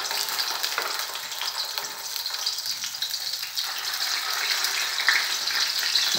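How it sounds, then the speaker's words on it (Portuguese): Loud, steady sizzling of hamburger patties frying in a hot pan, a dense crackling hiss with occasional pops, close up and without speech. "Agora nós vamos fritar o hambúrguer."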